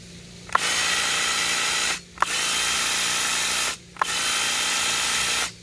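A Makita 18V LXT brushless cordless 24-inch hedge trimmer runs on medium speed in three bursts, each starting with a click and holding a steady buzzing whir before briefly cutting out.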